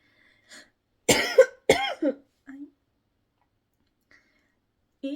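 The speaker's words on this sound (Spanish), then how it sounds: "Y si hablo mucho también me dan ataques de tos." Two hard, close coughs in quick succession from a person sick with influenza, followed by a short throaty catch and a faint later rasp, with near silence between bursts.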